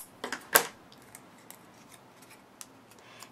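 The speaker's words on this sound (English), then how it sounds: "Then I'm going to take my scissors and just cut a slit right in the middle." Scissors snip a slit into paper for a stamped Christmas card, a couple of quick close cuts at the start, then only faint ticks.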